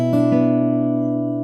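An acoustic guitar plays a short phrase from a song from Cyberpunk 2077, a couple of quick plucked notes ringing into a sustained, fading chord, close and clear.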